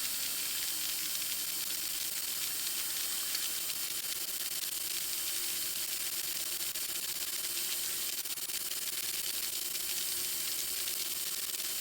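A Grizzly 5963 surface grinder grinds a steel knife blade in a steady, continuous hiss and whine with a constant motor hum, held at an even level throughout with no talking.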